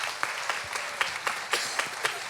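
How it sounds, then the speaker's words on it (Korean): Church congregation clapping for students, a soft, fairly distant spattering of hand claps with a few sharper accents, moderate and short-lived, with no talk over it. "우리 이렇게 학생들 위해서 한 박수 한번"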